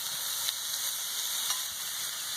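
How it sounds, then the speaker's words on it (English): Steak seasoned with salt and pepper sizzles steadily in a hot pan, a close, even hiss with a couple of brief pops and no talk. "Get the steak going."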